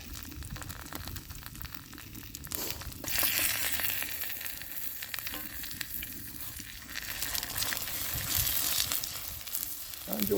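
Scrambled eggs sizzle steadily in a pan over a homemade camp stove built from a propane tank, a close continuous frying hiss with occasional stirring scrapes and no talk.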